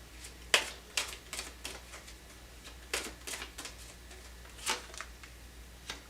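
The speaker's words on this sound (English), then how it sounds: "I'm going to go ahead and take some cards for this so I can finish reading this" Tarot cards being shuffled and drawn, a series of crisp, close paper flicks and slaps in irregular bursts, with quiet gaps between them and no talking.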